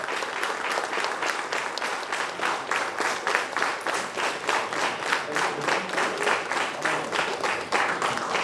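An audience at an HR conference claps together in a steady, rhythmic beat to welcome a speaker, the sound filling the hall evenly from start to finish.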